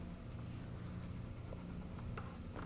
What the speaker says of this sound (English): I'm just going to erase right there